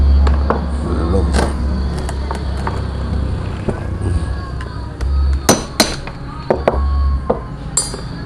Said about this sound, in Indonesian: ini klipnya sudah dibuka, dicongkel, saya pakai obeng min, diketok ya